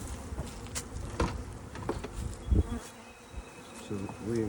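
Honey bees buzz around an open hive in spring, a dense, close, continuous hum with individual bees droning past, along with faint handling knocks.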